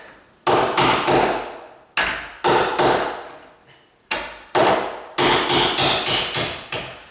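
A hammer taps a nail set repeatedly in quick bursts of sharp metallic strikes on a door hinge, close and loud, with short pauses between groups of blows.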